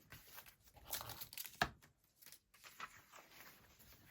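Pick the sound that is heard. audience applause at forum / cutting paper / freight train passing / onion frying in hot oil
cutting paper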